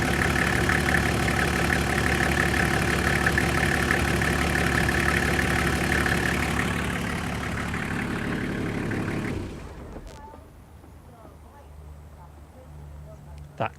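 A Toyota 1HZ diesel engine idles with a steady, loud rumble that fades and drops away about two-thirds through, leaving near quiet and a brief knock at the very end.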